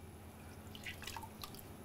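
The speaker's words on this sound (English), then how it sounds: "As I force them both into the water and bring them out again, the untreated is absolutely sopping wet" Water drips back into a basin from soaked tissue paper just lifted out of it, a few small, close drips and trickles over a quiet background.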